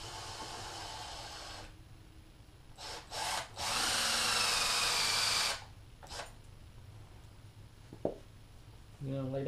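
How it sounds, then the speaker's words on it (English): A power drill bores into a wooden bottle holder in two bursts, first briefly and then for about two seconds of steady whine, with short pauses, knocks and a brief voice between them. "I have to drill this hole into here."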